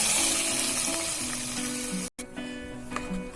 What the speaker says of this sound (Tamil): இப்போ தாளிசத்தை குழம்புல சேர்த்துட்டு நல்லா கிளறி விட்டுருங்க.